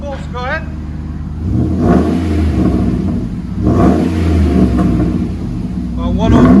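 A Dodge Ram 5.7 HEMI V8 truck with a Flowmaster Flow FX exhaust revs up hard twice, deep rumbling exhaust swelling and falling, with a brief high chirp and faint voices between revs.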